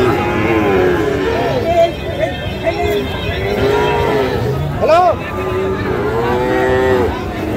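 Sahiwal bull calves moo repeatedly at the busy Ambari cattle market, several drawn-out calls overlapping at close range above a constant crowd murmur and people talking.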